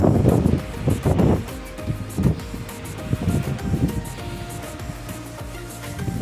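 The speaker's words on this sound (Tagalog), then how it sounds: "Lakas na ng hangin." Strong wind buffets the microphone outdoors at St. George, Bermuda, near the shore, gusting in loud uneven bursts with low rumbling and a wash of surf-like noise throughout.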